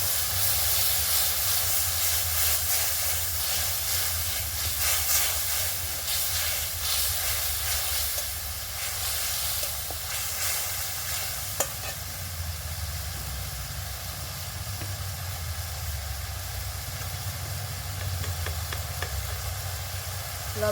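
Fish curry in a pan hisses and sizzles steadily after being stirred and topped up with water, a continuous close bubbling fry with occasional soft scrapes, no voices.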